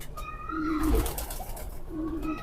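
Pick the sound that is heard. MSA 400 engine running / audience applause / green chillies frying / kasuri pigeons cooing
kasuri pigeons cooing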